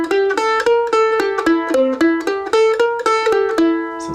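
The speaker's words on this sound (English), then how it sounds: "So now let's learn the Boogie Woogie in C." A guitar plays a boogie woogie blues riff in C, a bouncy, evenly plucked line of repeated notes walking up and back down, clear and close with no talking.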